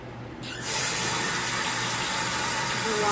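Tap water runs steadily into a sink as hands are rinsed during a hot oil hair treatment, starting quiet and swelling within a second to a loud, continuous close-up gush.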